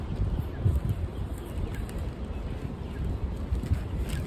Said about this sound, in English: And it's windy out here, Salakia.